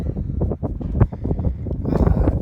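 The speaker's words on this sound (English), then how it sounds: "Oh, it's a windy day." Gusty wind buffets the microphone in uneven rumbling bursts, loud and close, with a faint rustle through the middle.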